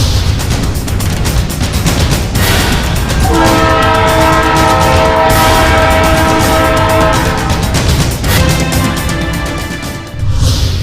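A Karachi Circular Railway train passes close and loud, rumbling and clattering throughout, with a long sustained horn blast sounding in the middle before the noise eases off near the end.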